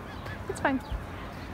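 A single loud honk from a goose-like bird at Daytona Beach, sharp and close, cutting through a quiet outdoor background.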